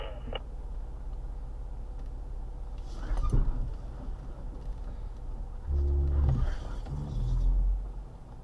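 A Ford Bronco crawls off-road through sand at Moab, its engine rumbling low and steady, with two heavier surges of revving as it climbs out.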